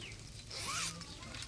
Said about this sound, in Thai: นี่โอ้นี่เขามีมีซิปซิปรูด